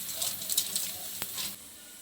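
Onions and spices sizzling in hot frying oil for broiler chicken curry in a village kitchen, a soft steady crackle and patter with faint pops, moderately quiet and without talk.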